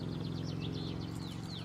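Faint high, warbling European robin song with quick trills and descending notes in a pasture, sitting over a steady low hum of background noise.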